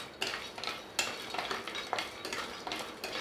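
Sprouted ragi dry roasting in a pan, the grains scraped and rattled by a spatula in steady repeated strokes, close and fairly loud with no voices.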